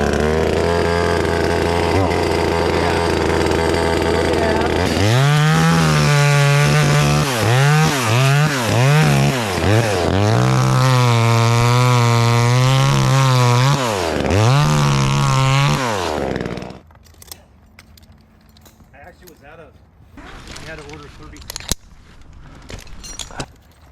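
A top-handle chainsaw, an inexpensive budget model, runs steadily at high revs, then its engine note rises and falls through several throttle blips before cutting off, leaving quiet handling noises.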